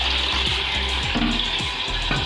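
A newly installed toilet cistern fills with water, a loud continuous hissing rush with gurgling undertones, heard close up without talk.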